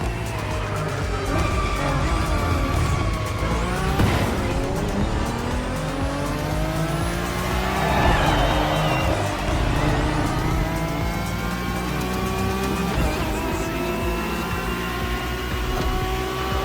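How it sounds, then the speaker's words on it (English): An Acura NSX GT3 race car engine in the video game The Crew Motorfest revs loudly and shifts through rising gear sweeps, with tire squeal through the turns in a continuous run. "the lineup exclusively features the Acura NSX GT3."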